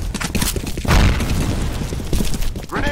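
A grenade explosion in the shooter game F.E.A.R. booms loud and close, a dense low-heavy blast with rumbling debris and scattered pops lasting nearly three seconds.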